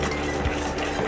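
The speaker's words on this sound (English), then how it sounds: "Whisk it." Guava ragi malt being whisked off the flame with boiled guava added, a steady continuous scraping stir in a pot, close and moderately loud with no pauses.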